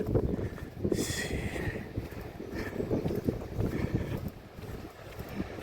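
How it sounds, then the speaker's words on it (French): Strong wind buffets the microphone on the coast at Muxia, with a rough, churning sea rumbling beneath in a steady, roaring wash of noise. "En plus la mer, il y a du vent, donc elle est un peu démontée"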